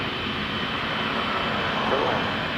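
A heavy jet comes in to land at Toronto Pearson Airport, its engines a loud, steady broadband roar heard from a distance and filling the whole stretch, with a faint talking voice mixed underneath.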